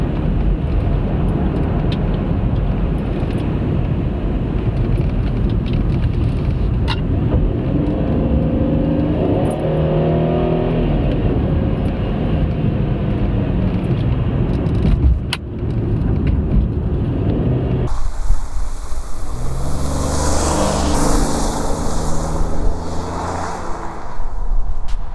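A 2017 Chevy Equinox LT is driven and accelerated, with a continuous engine drone that rises in pitch through the gears and loud wind and road noise, heard close up from inside with no talking.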